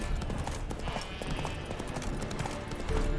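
Roach, a horse in The Witcher 3 video game, clip-clops along in a steady, continuous rhythm of hoof beats, fairly close, with faint ambient sound beneath.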